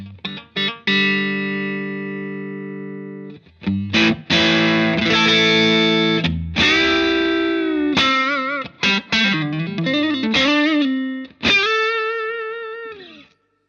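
A distorted electric guitar plays through a gain pedal, first sustained chords and then a quicker run of single notes and bends, loud and close, with the tone shifting as the tone control is swept.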